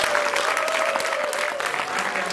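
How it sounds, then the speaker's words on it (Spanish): An audience at a film festival screening breaks into brisk, dense applause, a full crowd clapping together for a short burst. "pido un aplauso especial para ella"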